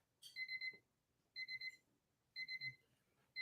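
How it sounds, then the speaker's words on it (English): Quiet electronic auction countdown timer beeps in repeated bursts of three or four quick, high tones, separated by short pauses of near silence. "And there's that sound again, that beeping sound."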